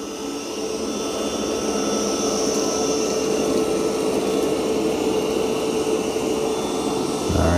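A Roborock Qrevo Curv robot vacuum runs steadily at close range, a constant whirring suction drone that holds an even level throughout with no speech over it.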